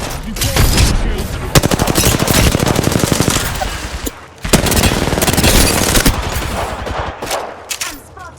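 Rapid automatic gunfire from the Apex Legends video game, dense bursts of loud, close shots that run almost without pause, broken by one short gap before another sustained volley; no talking.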